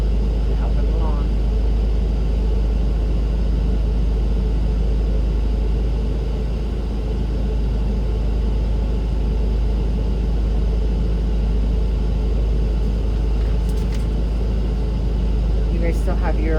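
A jail bus engine runs steadily to build air brake pressure up to governor cutout, a constant deep rumble and drone that holds at an even level with no breaks.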